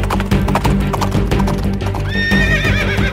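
Hooves clip-clop in a quick rhythm, close and loud, followed by a horse's high whinny rising over the hoofbeats near the end.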